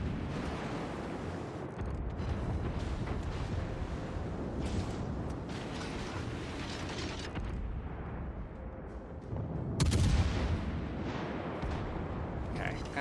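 Naval gunfire from warships in World of Warships Legends, with continuous booming salvos and rumbling low-end impacts throughout and a heavier blast near the end, while a voice talks over the battle.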